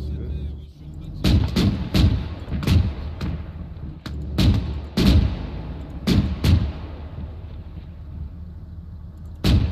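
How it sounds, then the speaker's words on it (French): Booming cannon shots in a Yugoslav War video game go off one after another, sharp heavy blasts with short rumbling tails at irregular intervals. "Max, mets-nous un coup de canon à la sortie du village."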